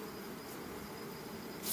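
Honey bees swarm around a hive during a honey harvest, a dense, steady, close buzzing drone that continues throughout without speech.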